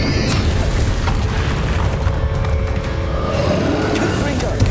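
Spell explosions boom out in a video game duel, layered and continuous across the stretch, dense low rumble and bursts mixed with shouted spell-casting voices.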